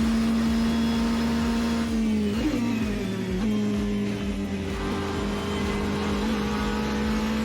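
Racing engine of an LM Hypercar A480 lapping in Assetto Corsa, a steady loud drone that holds pitch, dips and surges briefly around corners, continuous with no talk.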